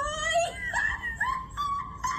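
A dog whimpering in a Super Mario Logan puppet comedy, a series of high, wavering whines and moans rising and falling, moderately faint.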